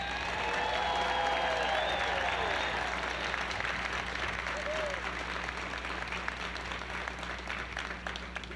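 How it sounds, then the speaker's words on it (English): An outdoor crowd at a street renaming ceremony honouring the Hidden Figures applauds the family members of Katherine Johnson, a loud, steady wash of clapping with some whistles early on that holds throughout, with voices mixed in under it. "I'd like you to give a big round of applause for each of these members I'm about to mention"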